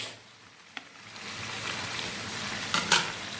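Chicken with chili powder, coriander powder, chicken masala and mixed spices sautés for chicken khichdi, a rising hissing fry with a couple of sharp spatula knocks near the end, brief and unaccompanied by talk.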